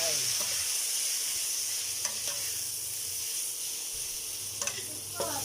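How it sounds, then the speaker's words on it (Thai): Boiled young jackfruit is stir-fried in a pan with fish sauce and a little sugar, giving a continuous bright sizzle and hiss broken by a few faint spatula scrapes and taps, with no talking. "ใส่น้ำปลาค่ะคั่วต่อไป"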